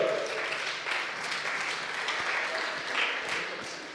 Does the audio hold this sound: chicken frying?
no